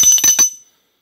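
A bright notification bell sound effect rings in a quick cluster of about four metallic dings, loud and clean, then fades to silence with no talking.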